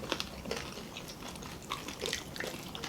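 Crispy bagnet with pinakbet vegetables is bitten and chewed close up, giving sharp crackling crunches at irregular intervals over a faint background, quiet and intimate.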